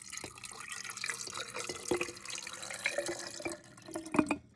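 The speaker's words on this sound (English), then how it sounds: "I'm going to pour the rest of it in the other jar" Liquid poured into a glass jar of eggs being prepared for long-term storage, a faint trickling, splashing flow with small gurgles and drips, close and quiet, no talking.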